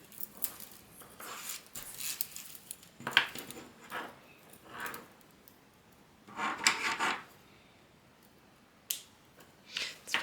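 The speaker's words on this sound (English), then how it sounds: "Probably not the best to cut it with scissors" Scissors snip through wreath material on a craft table in a few short, crisp bursts of cutting and rustling, with quiet pauses between them and no talking.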